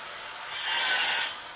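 A tile cutter slices through tiles during home renovation, heard as a faint background hiss that swells into a louder, steady high-pitched grinding for about a second before easing off.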